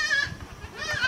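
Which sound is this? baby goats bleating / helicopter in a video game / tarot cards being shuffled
baby goats bleating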